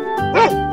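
A single short cartoon-style dog bark from a children's animal-sound game, heard alone, clear and close.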